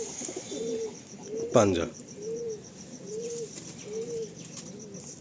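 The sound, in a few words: loft pigeons cooing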